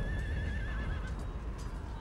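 Horses whinny in a Napoleon: Total War cavalry battle with horse guards, one clear rising and falling neigh over a dense rumble of battle noise and faint hoofbeats.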